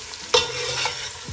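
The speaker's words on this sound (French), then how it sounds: "je laisse juste suer pour développer les parfums de l'oignon" Onion with thyme and garlic sweating in a pan, heard as a soft sizzle overlaid by a spoon stirring and scraping, with one sharper clatter partway through.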